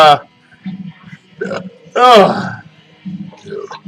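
A man's loud, deliberate burp rumbles out around two seconds in, between short grunting and hiccup-like vocal noises from the same person.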